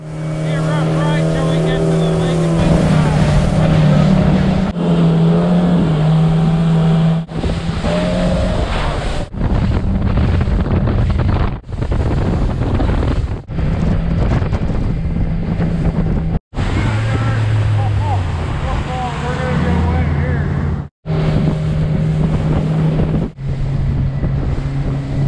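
Motorboat heading out along the Detroit River toward Lake Erie, its engine droning loudly under heavy wind buffeting and water rush, broken by several brief drops, with someone talking at times.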